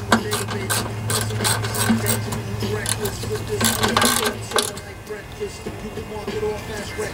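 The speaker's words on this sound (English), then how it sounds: "So I always tighten this one up first, good and snug, and then we go to this one." Screw being tightened on the carburetor mounting of a Briggs and Stratton lawnmower during a rebuild: a run of quick mechanical ratcheting clicks and metallic ticks with a steady low hum underneath, close and fairly loud.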